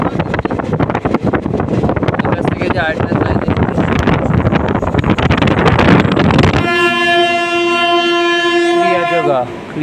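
The Kriya Yoga Express passing and overtaking makes a loud, close rumble and clatter of rail cars, then its horn sounds a long sustained blast near the end.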